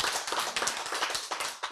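An audience at a Korean health lecture claps in a brisk, continuous patter of many hands, fairly close and moderately loud, with no voices over it.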